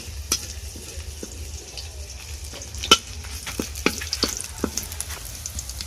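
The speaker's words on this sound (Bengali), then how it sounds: "রসুনটাকে ভালো করে ভেজে নেব লাল লাল করে" Garlic frying in oil for a cauliflower-and-potato chop, with a soft, steady sizzle and a few sharp clicks of a utensil scraping and stirring the pan.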